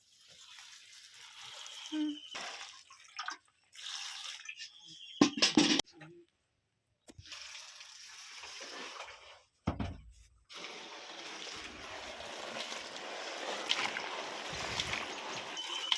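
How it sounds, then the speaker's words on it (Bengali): Jujube fruit (kul) being washed in water: intermittent splashing and sloshing in bursts, with a few short pauses of near silence and a longer, steadier stretch of swishing near the end. "এবার আমি জল দিয়ে পরিষ্কার করে ধুয়ে নেব।"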